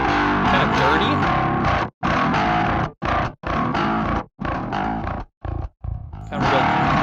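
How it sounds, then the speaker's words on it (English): A bass guitar runs through the Aurora DSP Mammoth amp plugin on a dirty, gnarly drive channel, playing loud, chopped riff bursts broken by short silences. "Kind of real dirty, gnarly distortion."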